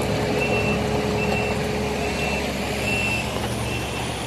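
A truck with an aggregate spreader table attached to its wheel works on a road surface-treatment job, its engine droning loud and steady while a thin beeping tone repeats over it.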